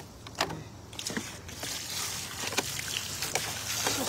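Water gushing hard from an open garden hose with no nozzle, rinsing something outdoors; a steady broadband splashing rush with a few louder bursts, close and continuous.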